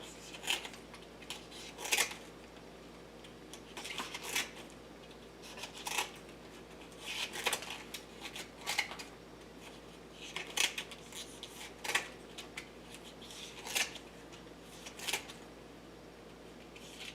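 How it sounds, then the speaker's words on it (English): Scissors snip the tops off artichoke leaves in a kitchen: a series of close, crisp cuts, roughly one every second or so, with small handling noises between them. "You just take your time, go around, snip all the tops off."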